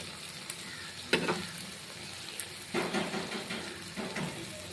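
Eggplant curry (begun khasi) cooking in a pan, a low steady sizzle with a few louder bursts of stirring and spoon scrapes against the metal, heard close up with no talking.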